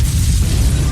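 A loud, dense roaring blast fills the whole moment, a sustained rumbling burst with no pause or quieter tail.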